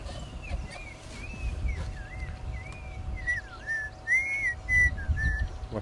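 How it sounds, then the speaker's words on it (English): A black-crowned tchagra sings a run of clear, sliding whistled phrases, moderately close and repeated in a loose rhythm over a low outdoor rumble, with no voices. "What's a lovely song? That's the song of the Chagra."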